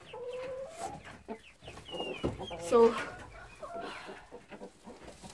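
Chickens cluck on a farm, with short calls and a louder squawk near the middle. A person talks over them throughout.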